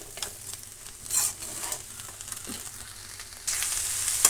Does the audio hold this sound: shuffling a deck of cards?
no